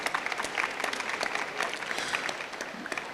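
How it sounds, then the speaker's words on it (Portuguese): Audience applause for a panelist named Camila at a talk on small businesses promoting healthy eating, a steady wash of many hands clapping close by, with faint murmurs underneath. "Uma salva de palmas para a Camila também."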